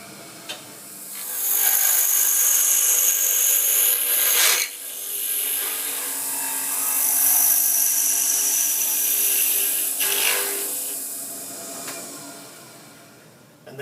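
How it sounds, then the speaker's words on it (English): A wood lathe turns small finials with a Speed Gouge, giving a sustained bright whirring hiss with scraping cutting noise that dips briefly twice before resuming, close and steady with no talk. "that's how easy it is turning small finials with my Speed Gouge"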